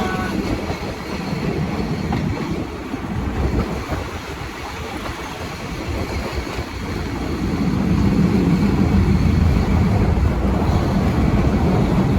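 Thai train no. 4384 rumbles and rattles steadily along the rails, the clatter growing heavier and louder toward the end as it pulls into Ban Laem terminal station.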